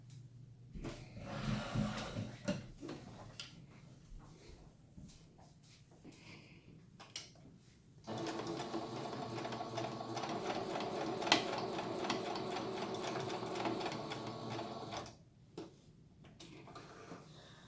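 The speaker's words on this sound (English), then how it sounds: "So I'm going to stitch right along here." Sewing machine stitching along the top edge of a fabric face mask, a steady close mechanical whir running for about seven seconds after scattered handling clicks and rustles, then stopping.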